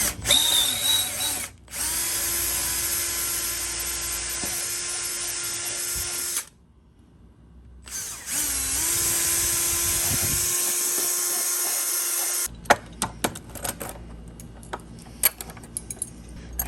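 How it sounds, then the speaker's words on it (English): A power drill with a 3/16 bit bores through-bolt holes for a Yale unit lock in two long, steady whining runs with a short pause between them, followed by clicks and handling noises. "there we see where our holes need to be drilled for the through bolts. And that can be done with like a 3/16 bit"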